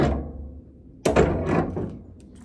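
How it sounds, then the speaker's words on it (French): A heavy metal shipping container door unlatches with a sharp clunk, then swings open with a scraping rattle, fairly close and loud. "Allez, j'ouvre le conteneur."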